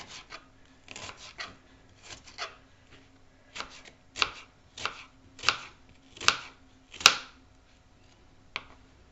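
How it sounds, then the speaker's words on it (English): A knife chopping onions on a board in a home kitchen while making Hungarian Székely káposzta, with a run of about a dozen crisp cuts that come slowly at first, then grow louder and more regular before a final chop. "This way the onions come separate, just you cut it like this, come very nice."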